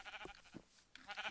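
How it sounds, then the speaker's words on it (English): Sheep in Minecraft bleat in quick succession, several short wavering baas close together, fairly faint in the mix. "there's a sheep over here that I have to kill."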